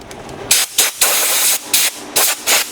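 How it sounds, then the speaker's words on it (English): An air compressor blows air to clean hats in repeated loud, hissing blasts, several short bursts and one longer one, close by. "Starting off with the air compressor."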